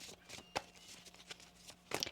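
Tarot cards shuffled by hand during a reading, giving a few soft riffling bursts and a brief crisp flurry near the end, faint and close with low room hiss.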